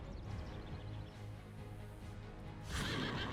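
A horse whinnies in the Heroes of the Storm video game, a short rising neigh near the end of the clip over a steady low game soundscape.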